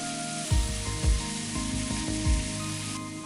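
Cabbage pakoda fritters frying in hot oil, a dense continuous sizzle with a few louder bubbling swells as pieces are turned, close and loud with no talking.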